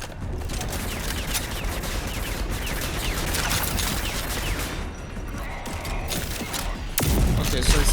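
Dense, continuous gunfire in a video game, a loud unbroken rattle of rapid shots with a heavier burst of fire near the end, with no talk.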